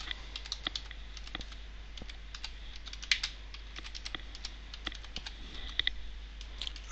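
A computer keyboard being typed on in steady, irregular bursts of light clicks, with a few sharper keystrokes standing out over a faint constant hum; no one speaks.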